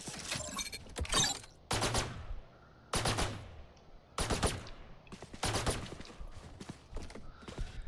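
Killjoy's sentry turret in Valorant fires in short, sharp bursts separated by brief gaps, loud and close, with a mechanical clatter between volleys.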